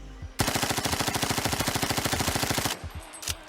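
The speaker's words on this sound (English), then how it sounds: "Here we go with the stock MPX. It's an SMG." A stock MPX submachine gun fires in a sustained automatic burst of around thirty rapid, evenly spaced shots in the shooter game PUBG: Black Budget, loud and close, ending with a couple of trailing single shots.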